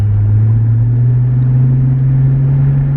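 An Infiniti G35 V6 with Borla mufflers gives a deep, steady exhaust drone heard from inside the car while driving, a loud, even low rumble with no revving changes.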